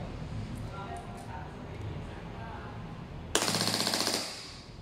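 A WE Glock18 gas-powered toy gun fires one rapid full-auto burst lasting about a second, a sharp, loud stream of fast snapping shots after a stretch of quieter background noise and faint voices.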